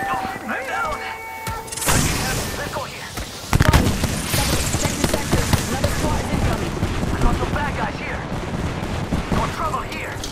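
Heavy gunfire and explosions in a multiplayer shooter video game, sustained loud bursts and booms throughout with a sharp blast partway in, under players' voices.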